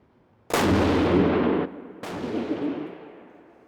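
Two loud, close rifle shots from a Bergara Crest rifle, each a sharp crack trailing into a long rolling echo, about a second and a half apart.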